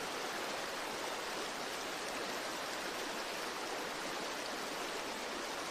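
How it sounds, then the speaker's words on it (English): A flowing water stream makes a continuous, even rush of broadband noise, steady and soft throughout, with no voices. "Listen to the water."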